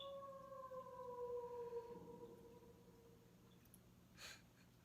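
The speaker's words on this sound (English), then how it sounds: "Here's a whale song." Whale song played back by an Amazon Alexa speaker: long, slowly falling tonal moans drawn out over several seconds, fairly loud and alone, with a brief hissing burst near the end.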